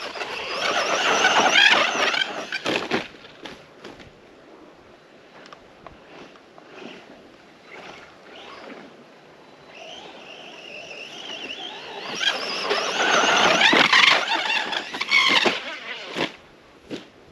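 An Arrma Senton RC car, running hot and overheating, tears through sand with a high whining motor that surges and fades, loud bursts at the start and end separated by quieter, distant stretches.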